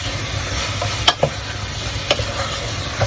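Onions sauté in a pan for chicken yassa, a steady sizzle broken by a few sharp scrapes and clacks of a utensil stirring them, with no talking.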